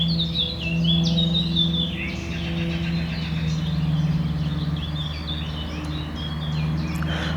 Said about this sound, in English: You can only hear the birds.